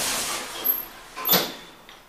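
Sliding doors of a SCENIC Elite traction elevator outside Baltimore Tower on the Isle of Dogs, London, closing with a soft whoosh that builds to a brief thud near the end, over quiet ambient hiss.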